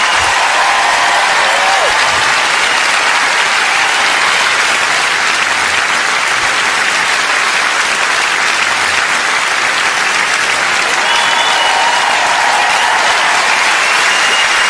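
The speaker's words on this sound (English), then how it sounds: "whatever about getting a bit of applause and all that crack off you" A large theatre audience at a stand-up comedy show applauds loudly and continuously, a dense wall of clapping that holds steady throughout.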